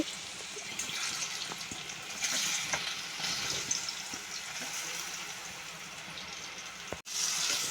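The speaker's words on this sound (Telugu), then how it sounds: "ఆ నూనె వేటైనాక దాంట్లో వేసి ఈ ముక్కలన్నీ వేపుకోవాలి" Vegetable pieces fry in hot oil with a steady crackling sizzle, occasional stirring taps and clicks, close and moderately loud, briefly cutting out near the end before resuming.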